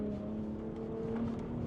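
Ford F-150 Raptor pickup truck accelerating uphill, its engine holding a steady, strained roar with a rising tonal whine, heard close and continuous.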